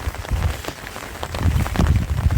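Steady rain patters on surfaces all around during a long walk along the coast between Lacanau and Lège-Cap-Ferret, a dense, even downpour heard up close with no voices.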